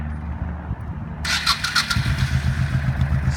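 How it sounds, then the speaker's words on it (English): A 1998 Honda VT1100C Shadow Spirit V-twin cruiser motorcycle cranks over briefly, catches and settles into a loud, close, loping idle with an even throbbing beat. "Starts just like a Honda."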